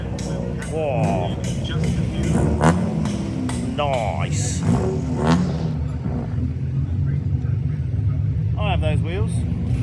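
A modified car revs loudly in the paddock at Donington Park during a Honda racing meet, with engine bursts rising and falling under nearby chatter.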